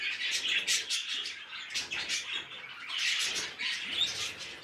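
Pet budgerigars chirp and twitter in a busy, continuous chatter of overlapping high tweets and warbles, fairly close and lively throughout.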